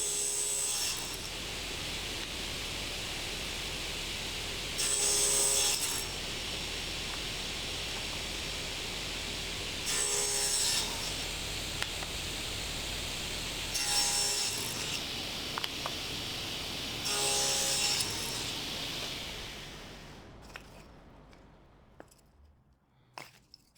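A table saw cuts angled plywood tiles on a sled, a steady whirring motor hum rising into four short, bright bursts as each piece is cut, then spinning down at the end.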